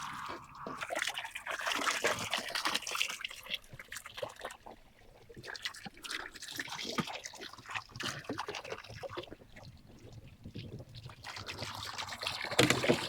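Water from a pressurised hose runs into a caravan's water tank, a continuous close gushing and trickling that surges and fades as the flow varies.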